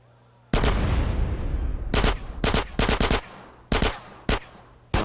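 Gunfire in GTA San Andreas Definitive Edition: a long, loud burst of sustained shooting opens, then several sharp separate bursts and single shots follow at uneven intervals, close and punchy, with no talk.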